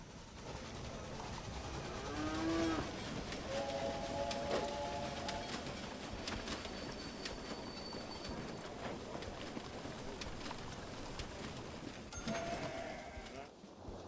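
Trains in the Railway Empire game give a low, continuous rumble of wagons on track, with faint whistle-like tones and bell chimes over a quiet ambient bed.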